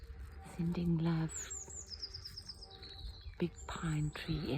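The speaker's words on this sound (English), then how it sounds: "beautiful bird song" Small birds chirping and tweeting outdoors among pine trees on a fine day, with thin high whistles and short sweeping calls, fairly faint and distant, alongside a few brief lower tonal sounds.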